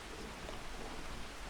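Rain falls in the farming video game Farming Simulator 25, a faint, steady hiss of dense drops with no other sounds.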